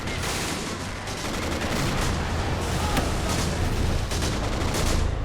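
Dense gunfire and German rocket artillery roar on the Russian lines in the video game Men of War Assault Squad 2, a loud continuous barrage of shots and blasts with no clear pauses.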